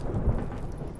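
A thunderstorm rumbles over the sea in The Witcher 3: Hearts of Stone, a low, dense roll of thunder with rain underneath, heard alone in a short burst.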